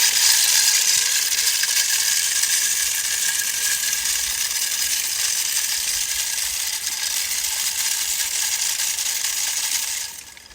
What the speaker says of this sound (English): I'm gonna run this feeder one time there. So 4, 3, 2. It's fixing to spin corn out.